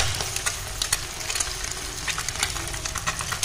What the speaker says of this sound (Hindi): 2 अंडे और बाकी का जो ये मसाला इसका बचा है इसमें हम मिक्स करेंगे अच्छे से